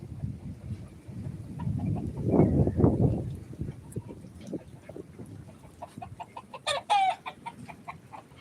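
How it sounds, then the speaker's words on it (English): Chickens cluck softly and irregularly at close range on a farm, with a rooster's low grumbling and a sharper squawk near the end. "Red, now you should be treating your hen better than that"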